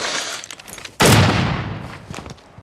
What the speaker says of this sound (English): Fitzgerald has fled after shooting Henry in the head